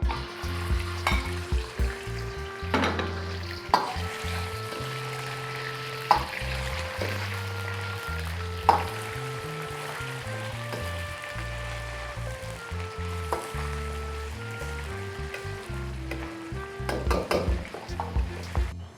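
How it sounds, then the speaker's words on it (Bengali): Chicken and prawns fry together in a pan for restaurant-style young chow fried rice, a loud, steady sizzle with repeated scraping stirs and utensil clanks close by, alone without speech. "আমি প্রথমে নিয়ে নিচ্ছি চিকেন অ্যান্ড প্রন একসাথে দিয়ে আমি একটু ভেজে নিচ্ছি।"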